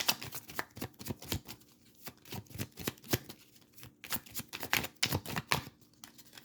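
Tarot cards being shuffled by hand, a rapid series of crisp riffling and flicking bursts in an irregular rhythm, close and fairly quiet, with no talking.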